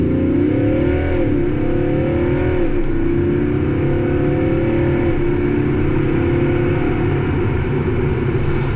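A BMW 535d xDrive F11 diesel estate accelerating hard, with a steady, loud engine drone whose pitch climbs and shifts as it pulls through the gears, with no talk over it.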